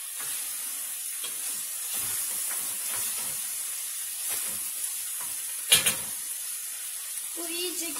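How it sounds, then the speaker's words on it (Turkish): Peppers frying in a pan, a steady soft sizzle and hiss close by with faint stirring scrapes and a sharp clink near the end, no talk. "İyice kendini biberler bıraksın, iyice kavrulsun"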